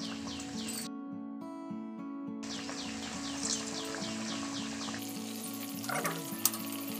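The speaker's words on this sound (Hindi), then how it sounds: "तेल गरम हो गया है और इसमें हम अब डालेंगे, ये एकदम मध्यम आंच कर दीजिएगा" Kachori frying in hot oil over a medium flame, a steady soft sizzle and bubbling that carries on throughout, fairly quiet and with no one speaking.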